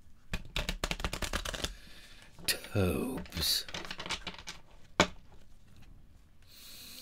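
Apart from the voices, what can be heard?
shuffling tarot cards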